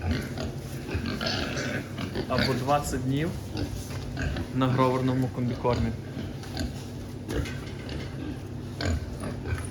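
Pigs resting and eating feed in a fattening pen, about 60 days after weaning, give grunts and oinks close by throughout, with someone talking over them most of the time.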